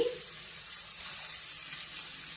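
Ginger sizzles steadily in hot oil in a pan while being fried for pasta, a close, continuous hiss that holds an even level throughout.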